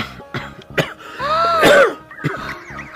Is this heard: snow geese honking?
no